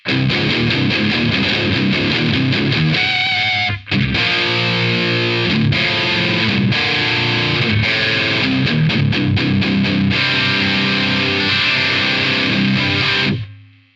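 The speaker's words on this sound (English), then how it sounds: "the bite and the little bit more aggression that we're getting out of the distortion is really good" Loud, aggressive electric guitar runs through a Joyo Taichi distortion pedal, with crunchy chugging riffs, a brief pause, then more driven chords and sustained notes, played close and without talk before cutting off.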